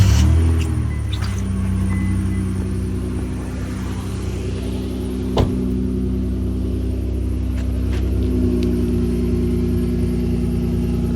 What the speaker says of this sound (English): So let's get a cold start on this thing.